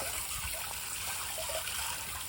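Water rinsing through a backed-up septic tank, a steady close rushing and trickling flow that holds at an even level throughout.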